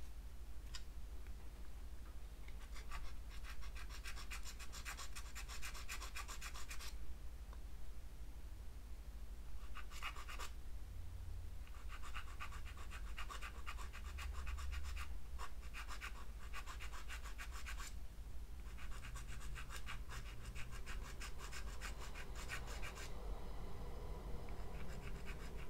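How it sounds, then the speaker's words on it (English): A file rasps in repeated bursts against a PhobGCC controller gate as a notch is cut, with steady scratchy strokes and short pauses between passes, close and quiet, alone without talk. "So sometimes filing from a different angle helps"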